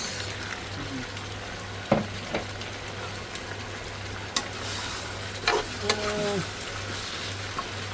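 Tomatoes and mixed vegetables fry for pinakbet in a hot pan, giving a steady soft sizzle broken by occasional stirring clacks and utensil taps. No one speaks.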